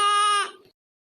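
Goat bleating once, a loud, close, wavering nasal cry lasting about half a second before trailing off into silence.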